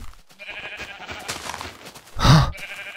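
A sheep in Minecraft gives a single loud, close bleat near the end, over faint steady game background.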